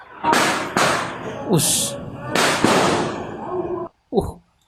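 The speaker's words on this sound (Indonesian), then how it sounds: "Suara petasannya kenceng banget ya" Loud sharp firecracker bangs burst in quick succession, echoing, with crackling in between and a final pop after a brief silence.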